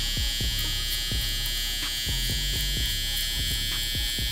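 Electric hair trimmer buzzing steadily and close during a haircut edge-up along the hairline, a constant motor drone with a series of short clipping strokes.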